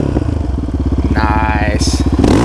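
A Yamaha Raptor 700 ATV engine punched from a dead stop, its rapid thumping idle pulses climbing into a rising rev, with a person's voice heard over the engine.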